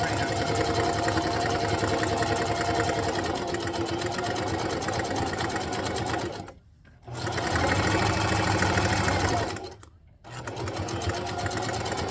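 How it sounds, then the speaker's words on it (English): A sewing machine stitches fabric for a bowl or jar cover, running in a loud, steady close whir that stops briefly twice, once around the back-stitch, then resumes at full speed. "I'm going to back stitch and then sew all the way"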